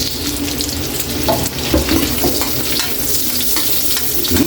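Onion going into garlic frying in oil in a pan for pakbet, a loud, steady close-up sizzle and crackle with stirring scrapes throughout, and no voices.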